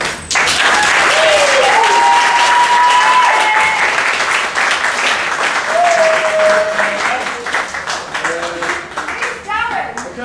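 Wedding guests break into loud, sustained applause for the best man, Darren, with whistles and cheers rising over the dense clapping. Voices mingle beneath it as it slowly tapers off near the end.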